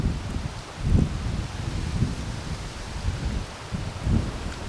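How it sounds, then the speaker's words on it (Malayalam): Wind blows outdoors in gusty surges that buffet the microphone, with a low rumble and faint rustling swelling and easing every second or so. "നല്ല കാറ്റുണ്ട്."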